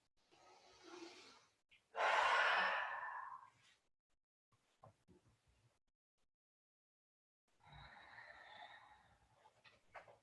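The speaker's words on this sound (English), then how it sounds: "2 breaths here." Slow, deep breaths during a yoga forward fold: a soft breath, then a loud long exhale, a pause with faint shuffling, and another full breath, all close and with no talking.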